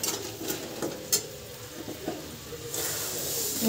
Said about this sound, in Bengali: আর বাদাম ভাজছি উইথ তেল